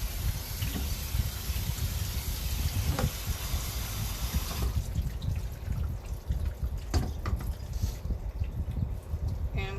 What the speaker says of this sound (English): I'm going to run some cold water over my bean thread noodle to cool that down.